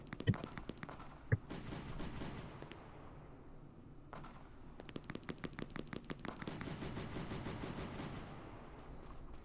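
Rapid bursts of virtual fireworks crackle and pop in a Roblox fireworks playground game, with dense repeated volleys of sharp bangs, a brief lull near the middle, then another long string of quick shots.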